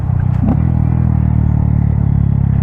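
A Honda Grom motorcycle fitted with a Yoshimura aftermarket exhaust idles loud and close, a deep rapid pulsing burble with a brief blip of throttle early on, no voices over it.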